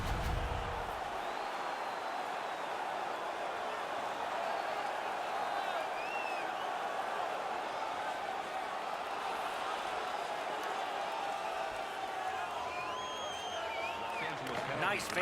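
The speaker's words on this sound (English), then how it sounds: "The crowd is ecstatic." Arena crowd cheering after a hockey fight in NHL 17, a dense, sustained roar of noise with scattered whistles and shouts, steady and loud throughout, with no talk over it.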